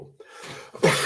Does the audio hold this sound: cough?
yes